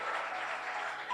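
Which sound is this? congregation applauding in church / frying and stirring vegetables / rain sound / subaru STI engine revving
congregation applauding in church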